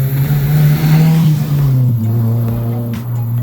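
A car on a road in Jamaica passes close by, its engine droning loudly and steadily with a shifting pitch as it goes past, with no talking.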